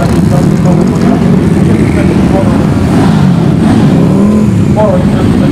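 Off-road vehicles and other cars roll past in a parade, a steady loud engine rumble with occasional revving that continues throughout without pause.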